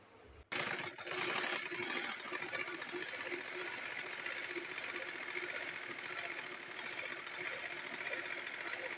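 A sewing machine stitches pieces of kurti fabric together, starting abruptly and then running as a continuous, fairly loud mechanical whir with a rapid rattling rhythm.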